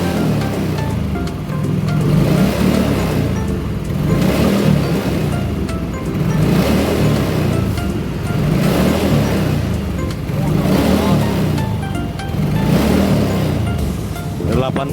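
Yamaha Soul GT scooter engine, running with an overcharging battery fault, revs up and down in repeated rhythmic surges over a steady idle rumble, close and loud.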